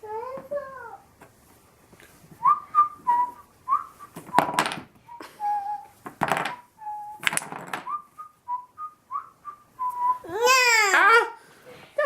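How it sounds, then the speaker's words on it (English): A two-year-old toddler whistles repeatedly in short, breathy tonal bursts, mixed with babbling and crying-like squeals, up close in a quiet home. "Why don't you whistle and see what happens"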